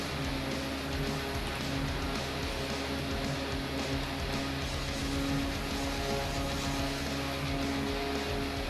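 Steady propeller airplane engine drone in a flight simulator game, a constant close hum holding level throughout with no talk.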